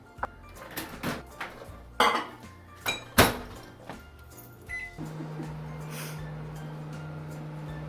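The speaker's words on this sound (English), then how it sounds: "I'm just gonna put this in the microwave to melt a little bit" Dishes clink and a door thumps shut, then a microwave oven starts its steady low hum that continues to the end.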